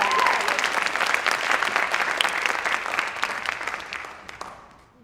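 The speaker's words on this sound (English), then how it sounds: "Another round of applause." Audience at a high school drama awards ceremony gives a round of dense, lively applause that starts strong and gradually tapers off toward the end.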